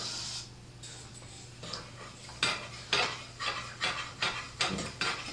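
A spoon scrapes and clinks against a pan as liquid is stirred while it heats toward a boil, coming as a run of close, rhythmic strokes that grow more regular, with no talking.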